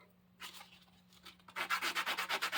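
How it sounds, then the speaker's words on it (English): Sandpaper rubbing the wood parts of a 100-year-old antique desk from the Spiegel's catalog, a few soft strokes and then a quick run of loud, rhythmic back-and-forth scrapes. "take some sandpaper and the parts that aren't going to show, just trim them down"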